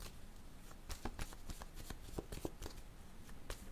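Playing cards shuffled and riffled in a quick burst of crisp, papery flutters and snaps, close and fairly soft, with no voices.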